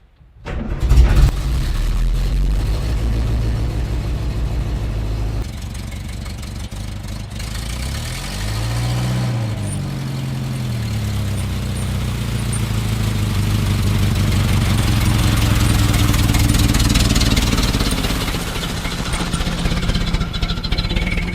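Car fitted with tire chains in winter snow starts with a sharp burst, idles, then revs and pulls away, its engine droning loud and close with rising and falling pitch throughout.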